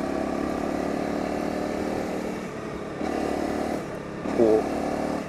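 A Honda CRF250L motorcycle engine, the 2021-on model, revs as the throttle is opened and closed, a steady close engine drone rising in surges with a sharper rev near the end, with no talk over it.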